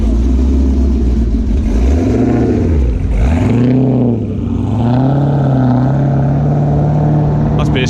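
A Mark III Ford Escort XR3 hot hatch at a street car meet idles loudly nearby, its steady low engine note wavering a little in pitch, while people talk over it.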